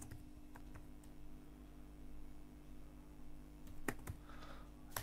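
Sparse keyboard clicks from typing content on a computer, a few isolated taps over a steady low hum, close and faint.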